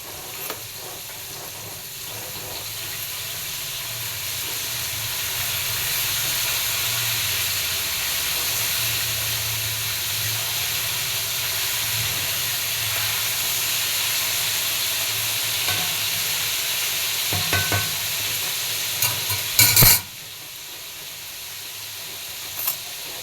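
Rice and fish are stirred in a cooking pot, with a steady steamy sizzle and hiss throughout, soft scraping and a few louder clanks near the end.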